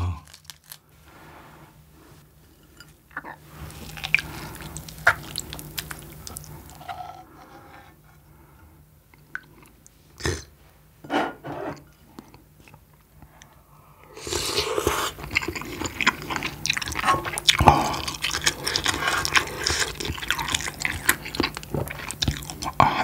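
Close, crunchy chewing and biting while ramen is eaten with peeled shrimp mixed into rice, soft wet mouth sounds growing louder and busier in the second half, with no talking.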